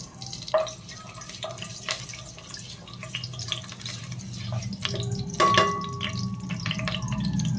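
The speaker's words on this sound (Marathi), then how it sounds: "तर तेल आपलं चांगलं गरम झालेलं आहे. त्याच्यामध्ये टाकून घ्यायचे आहेत काही खडे मसाले, तेजपत्ता" Whole spices and a bay leaf sizzle in hot oil and ghee for paneer biryani, making a soft, continuous crackle with scattered sharp pops close by.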